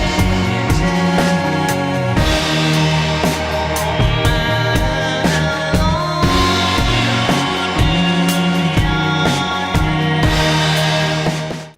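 A song plays loud and full, with a dense mix of driving drums, bass and layered synths and vocals throughout.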